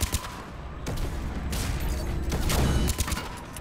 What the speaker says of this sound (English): Where am I getting shot at from?